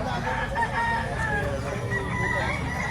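Roosters crowing and clucking at a busy gamefowl market in Lipa, Batangas, several birds calling over one another amid a dense crowd hum, with faint talk in the background.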